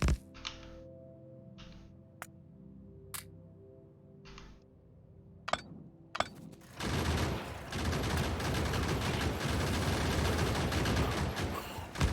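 Turrets open fire while creeping forward in the modded video game Factorio Krastorio. A few sparse clicks and isolated shots lead into a sustained, dense volley of rapid gunfire.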